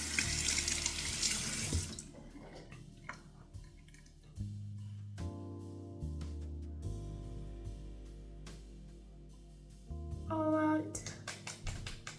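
Tap water runs steadily into a sink while a face is wetted, a continuous near splashing stream with brief interruptions and gurgles, no talk over it.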